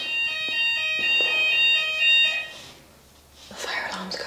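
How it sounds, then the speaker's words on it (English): A smoke alarm going off in a home, sounding a loud, piercing electronic tone in repeated bursts that cut out partway, followed by a person speaking. "The fire alarm's going off."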